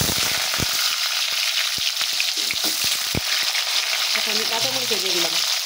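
Diced potatoes with cumin seeds sizzle steadily in hot oil in a wok, a constant bright hiss broken by sharp knocks of a spatula stirring, with a faint voice near the end.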